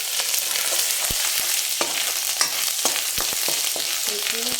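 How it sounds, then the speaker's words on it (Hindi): Paste for a chicken soup fries in a hot pan with a bright, continuous hiss, while a spoon stirs it with scattered sharp scrapes and taps, close by. "थोड़ा सा मैंने ये पेस्ट ऐड कर दिया है। ऐसे मिक्स कर दूँगी।"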